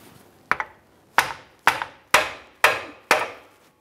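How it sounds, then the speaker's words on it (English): A hammer taps the end of a front CV axle to drive it out of the differential on a 2011-2021 Jeep Grand Cherokee. Six sharp, close metallic strikes land at an even, unhurried pace, each with a short ring, and no one speaks. "We're going to tap on the end of the axle here, trying to drive it out and away from the vehicle."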